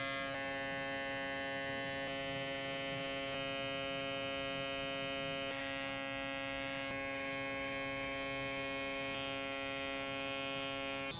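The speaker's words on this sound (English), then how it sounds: "next step, no guard, clipper open" Electric hair clipper running with no guard and its blade open during a burst fade haircut, giving a steady close buzzing hum with a slight variation in tone, no voices.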